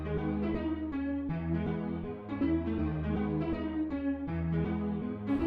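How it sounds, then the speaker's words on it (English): Layered synth melody in a beat, thickened with a hyper chorus effect after gross beat processing, playing continuously with sustained chords and shifting notes, loud and close with no talking. "Then I add some hyper chorus"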